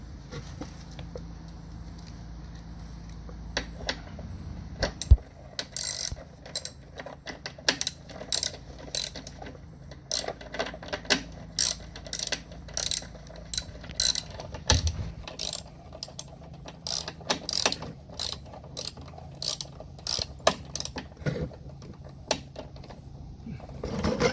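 A bolt is started by hand into the gear of a self-propelled lawn mower, making close, irregular metallic clicks and ratcheting taps alongside soft handling noises.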